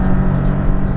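Porsche Cayman GTS engine on a race track, a loud continuous drone heard from inside the car, steady and close for a brief moment.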